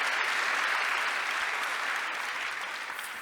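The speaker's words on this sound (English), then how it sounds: "could we have a round of applause, please, for this afternoon's panel" A conference audience applauds the closing-session panel of a cities forum, dense steady clapping that fades slightly toward the end.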